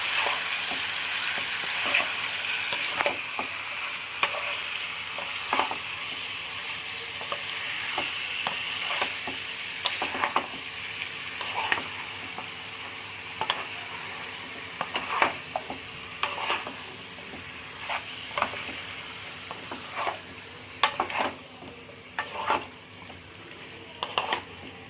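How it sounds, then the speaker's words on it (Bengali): Chicken fries in a pan over a medium flame, with a steady, close sizzle and hiss while a spoon stirs it, making repeated scraping knocks against the pan throughout. "এই মিডিয়াম ফ্লেমে এটা ভালো করে নাড়বে।"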